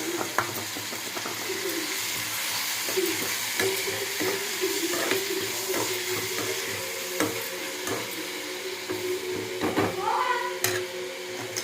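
Onions and tomatoes fry in a pan, a steady sizzle under repeated scraping and clinking stirs of a spoon, close up, with brief faint talk.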